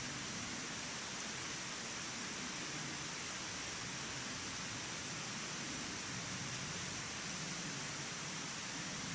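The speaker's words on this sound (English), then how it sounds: "And the sound of the river." Steady, even hiss of a flowing river beside a campsite, a constant broadband wash of water with no breaks or voices, moderately loud and unchanging throughout.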